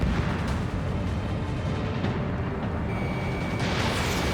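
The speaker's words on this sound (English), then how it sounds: "Missile away." Missile launch in the PS5 jet combat game Ace Combat 7: Skies Unknown, a dense, loud, continuous roaring blast of rocket thrust and rumble, steady throughout with no talking.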